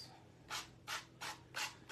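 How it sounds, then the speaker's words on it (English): A nail file rubbing the rough, 80-grit-sanded edge of a handmade prayer book notebook, four quiet, evenly spaced rasping strokes, close and soft. "Hit it after the fact with the nail file after the sanding block has done most of the work for you"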